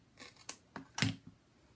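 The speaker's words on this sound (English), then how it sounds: "Then I trim my edges." Scissors trim the paper edges of a handmade photo book in a quiet room, making four or five crisp close snips in quick succession.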